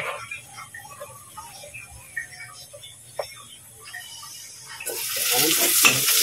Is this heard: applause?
no